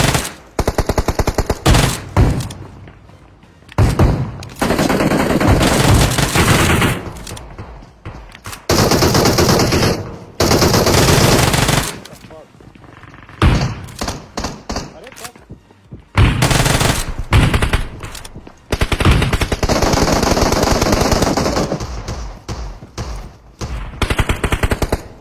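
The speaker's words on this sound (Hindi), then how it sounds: "पता है चारों तरफ से गोलियां चल रही थी" Rapid automatic Uzi fire from PUBG Mobile in loud, dense bursts of gunfire separated by short pauses, continuing throughout, with intermittent talking beneath the shots.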